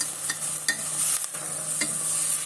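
Chopped vegetables for an okra stew sauté in a generous amount of oil. A close, continuous sizzle runs through, broken by several short scraping strokes of a spoon against the pan, with no voices.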